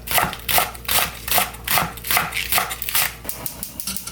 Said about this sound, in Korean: 쫑쫑 썰어 놓겠습니다